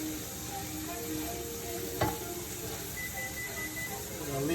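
Shell-on shrimp fry in a skillet with basil and garlic, giving a steady moderate sizzle with one short clink of a utensil midway and no speech.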